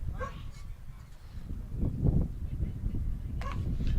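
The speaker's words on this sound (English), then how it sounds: "The fans bring their dog." A dog barks a couple of times at a baseball park during a regular-season finale game, sounding faint and distant beneath steady crowd and ballpark noise.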